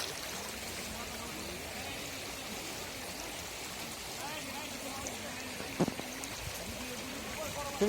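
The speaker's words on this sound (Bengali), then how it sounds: "ঝর্ণা" Soft, steady rushing of a waterfall at Lakmachhara, Sunamganj, distant and continuous, with faint voices underneath.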